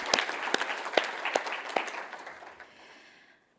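Applause from the audience at a Lupus Foundation of America advocacy summit, a dense wash of many hands clapping with a few sharper claps standing out, fading away over the last second.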